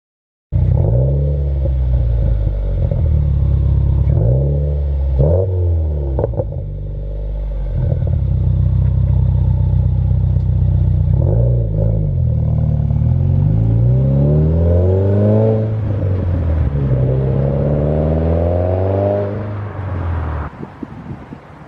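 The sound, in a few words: car with axle-back exhaust revving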